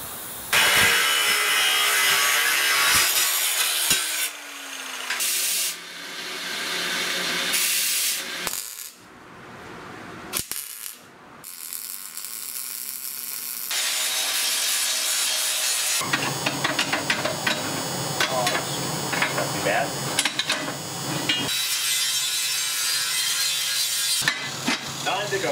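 Wood is sawn to cut rings, with loud, close rasping saw strokes that come in bursts separated by brief pauses and changes in tone, alone without any voices.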